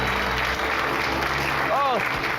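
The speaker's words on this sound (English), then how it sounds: "And the crowd goes wild." A studio audience cheering and applauding: dense, steady clapping mixed with whoops and shouts, with voices speaking over it.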